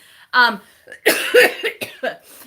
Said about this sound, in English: Apologies if I do go into coughing fits